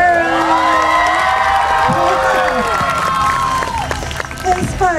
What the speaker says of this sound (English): She's waiting for a cheer.